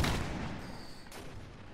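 Gunfire volley in the Mount&Blade battle game, a loud burst of musket shots at the start followed by rumbling, scattered reports fading under the din of battle.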